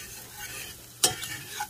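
Spoon stirring a runny flour roux for sausage gravy in a pan, a soft scraping with one sharp clack against the pan partway through and a quiet sizzle underneath.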